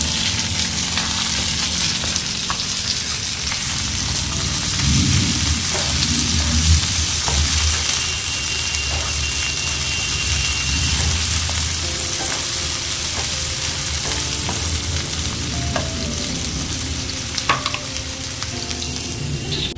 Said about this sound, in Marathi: मस्त लसूण आणि आलं लाल झालं, ठीक आहे. आणि यामध्ये मी आता ओतून देते माझी शिमला मिरची.